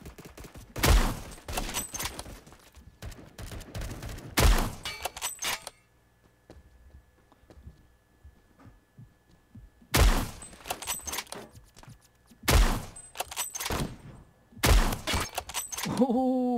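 Suppressed AWS sniper rifle firing in the Roblox game Phantom Forces, sharp, punchy shots spaced seconds apart with quieter stretches between, and a player talking faintly in the background.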